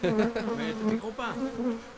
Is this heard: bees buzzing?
yes